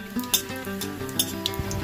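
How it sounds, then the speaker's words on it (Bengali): Crushed cardamom pods and cinnamon pieces fry in hot oil, giving a soft, steady sizzle with small crackles and pops, faint and close, with no voices. "তেলে দিয়ে দিচ্ছি 3টে থেতো করা ছোট এলাচ আর 2 টুকরো দারচিনি।"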